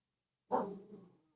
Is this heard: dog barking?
yes